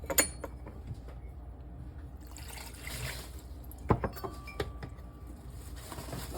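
Water is poured into a measuring cup while sweet and sour sauce is being made, a quiet, steady liquid trickle with a few light clinks of cup or utensils, nearby and without speech.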